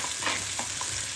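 Onion frying in oil with cinnamon and cloves for mushroom sukka, a brief steady sizzle with a scrape of stirring, close, no talk.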